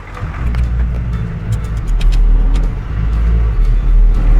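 A diesel truck drives slowly over pavers in a farmhouse yard, its engine giving a close, loud, steady rumble with a brief rise in revs and some clunks and rattles under the tyres.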